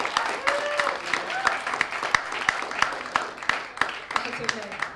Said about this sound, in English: Please give a round of applause to Rachel Corso.